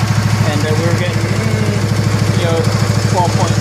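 A 1970 John Deere 140 H3 garden tractor engine runs steadily close by, its loud, even, rapid chugging idle continuing throughout with someone talking over it.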